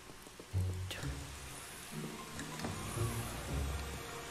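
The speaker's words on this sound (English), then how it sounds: "It's one of those fancy rain showers, too." Fancy rain shower running in a penthouse bathroom in Luigi's Mansion 3, a faint, steady hiss of falling water with soft low thumps scattered through it and no talk.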